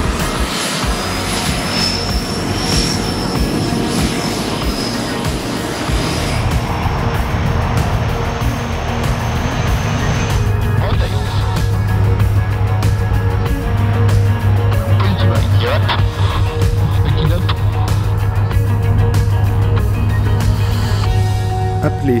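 A C-130J-30 Super Hercules transport plane starts its engines. A loud whine builds into a rising turbine roar, and a steady low propeller drone follows as another engine spools up.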